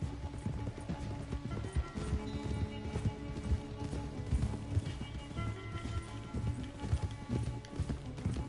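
Rapid hoofbeats of a galloping horse in the video game Red Dead Redemption 2 pound steadily throughout, dense and continuous, with a busy background underneath.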